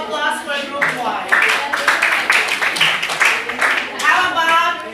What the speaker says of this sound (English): So a big round of applause for group 1.